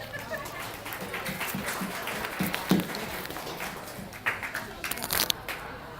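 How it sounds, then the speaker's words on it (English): Modest applause at a political organization's holiday party, scattered hand claps rising and falling over about six seconds, with crowd murmur and a few voices mixed in. "Let's give each other a round of applause."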